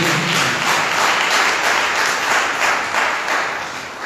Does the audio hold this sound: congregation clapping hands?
yes